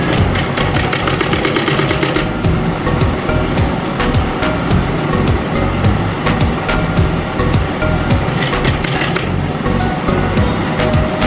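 Sewing machine stitching along the elastic edge of a pair of pants, a steady loud mechanical whir with fast rhythmic needle clatter running continuously throughout.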